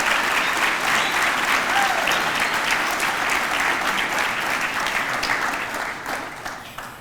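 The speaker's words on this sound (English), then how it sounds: "How about a big round of applause for our record number of sponsors tonight?" A large banquet audience at a YMCA annual meeting gives sustained, dense applause lasting the full stretch, loud and steady before easing off slightly at the end, with no speech over it.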